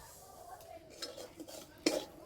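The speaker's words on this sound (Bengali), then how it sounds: "যতক্ষণ না সুজির কাঁচা গন্ধটা চলে যাচ্ছে ততক্ষণ এইভাবে নেড়ে নেব" Coarse semolina being dry roasted in a kadai, stirred with a utensil that scrapes and clinks lightly against the pan, ending in one sharper knock, quiet and close with no talk.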